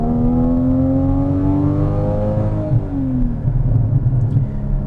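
A 2014 Porsche Cayman with a seven-speed PDK dual-clutch automatic revs up while driving, the engine tone rising then dropping through a shift before a rougher, grumbling pull, loud and close with no voices.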